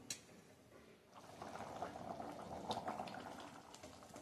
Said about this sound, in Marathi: आता ह्याला छान उकळी, म्हणजे आपण ज्याला रटरट शिजवायला पाहिजे असं म्हणतो ना, तितपत हे शिजवायचं